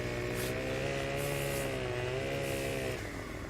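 Chainsaw in the Farming Simulator 17 video game, a steady loud buzzing engine drone that holds its pitch with slight wavering before easing off near the end.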